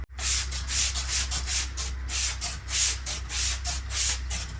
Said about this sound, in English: Get a good mist.